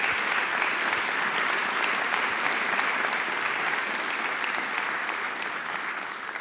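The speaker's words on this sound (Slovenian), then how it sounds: "Prosim, en aplavz." An indoor audience at an electrical engineering awards event applauds, sustained dense clapping that holds steady and only begins to thin near the end, with no voices over it.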